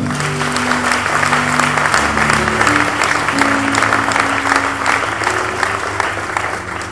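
A church congregation breaks into sustained applause, dense clapping from many hands filling a large room steadily throughout with no speech over it.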